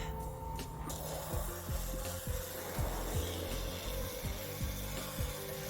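A quartz nodule being polished on a 180 grit disc gives a steady abrasive grinding hum with a constant tonal whine, overlaid by repeated rhythmic scraping strokes as the stone is worked against the disc, close and moderately loud, with no talk.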